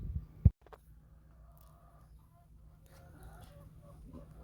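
Chickens cluck softly in a summer garden, with scattered faint calls over a low outdoor hum and a single sharp knock near the start.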